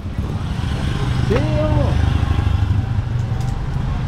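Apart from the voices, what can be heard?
motorcycle approaching and passing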